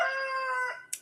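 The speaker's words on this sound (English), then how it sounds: "There's your rooster." A rooster crows once, a single loud, drawn-out call that rises and then trails off near the end, heard up close and alone.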